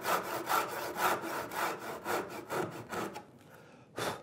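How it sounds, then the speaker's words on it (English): A hand saw widens the kerf of a groove in wood for a wedge, with about eight close rhythmic rasping strokes that pause briefly before one final stroke, and no one talking. "I'm going to use a bigger saw kerf just to increase that groove for the wedge."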